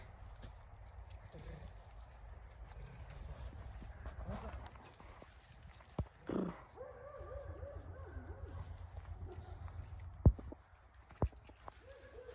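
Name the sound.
horses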